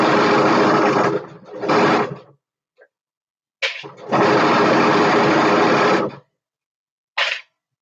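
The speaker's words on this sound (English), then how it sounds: "we sew that seam together" A sewing machine stitches a 5/8 inch seam in several close, loud bursts of rapid whirring, stopping and starting with short quiet gaps between runs.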